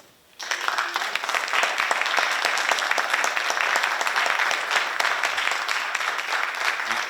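Loud, sustained applause from a lecture audience thanking a speaker, starting abruptly after a brief quiet moment and continuing as a dense wash of clapping.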